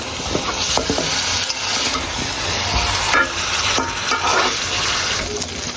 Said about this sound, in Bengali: পায়েটা আমার কষানো হয়ে গেছে